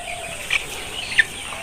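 Sonali chickens, 25-day-old birds on a poultry farm, give two brief, faint clucks over a steady background hum.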